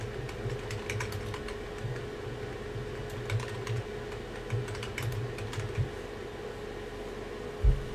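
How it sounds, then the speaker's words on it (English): Computer keyboard typing, quick irregular clicks scattered across the whole stretch over a steady low room hum, near and fairly quiet, with no talk. "I'm trying to type this stupid thing"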